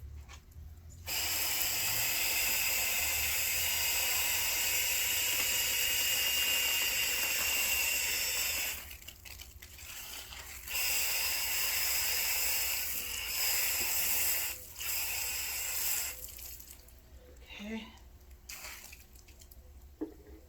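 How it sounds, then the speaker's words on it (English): A pressure sprayer loaded with plain water sprays outdoors while car wheels are washed of brake dust, giving a loud, steady hiss in long bursts that stop and restart, followed by quieter dripping and handling noises. "it's just going to spray water out of the pressure sprayer"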